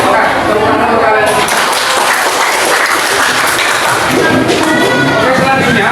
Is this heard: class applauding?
yes